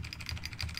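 Code is typed on a computer keyboard in quick, light, evenly spaced keystrokes, faint and close, with no voices.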